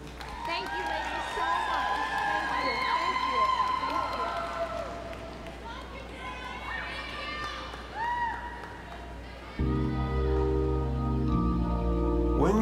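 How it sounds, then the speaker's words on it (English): Applause, whoops and high-pitched cheering from the crowd at a teen dance competition final fill the room at close range, with voices audible in the noise, until music starts abruptly near the end. "that deserves a nice big applause"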